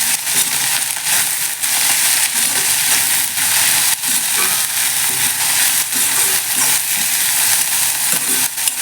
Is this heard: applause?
no